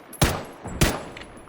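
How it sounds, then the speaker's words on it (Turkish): A fuel canister blows up in PUBG, heard as two sharp, loud bursts about half a second apart, each with a brief decaying rumble, with no talk over them. "Benzin bidonu patladı bir de patladığı yeri yakıyor komple"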